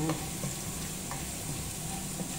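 Garlic sautés in hot oil in a pan, giving a soft, steady sizzle with faint stirring scrapes, close and continuous throughout.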